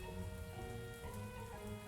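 Rain falls steadily in the video game Mon Bazou, a soft continuous patter with faint tonal game hum layered beneath, no voices, even and moderately quiet throughout.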